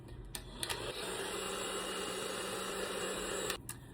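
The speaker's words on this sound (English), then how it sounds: "I take my eyelash curler and I just heat it up with my hair dryer." A hair dryer on its hottest setting blows steadily on an eyelash curler, a continuous close whirring hiss that runs nearly the whole time with a few clicks near the start and end.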